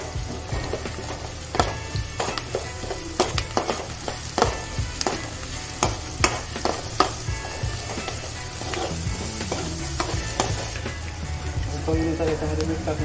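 Ginger garlic paste frying with onions in a hot pan, a continuous sizzle with irregular spatula scrapes and knocks, while a person talks over it at times.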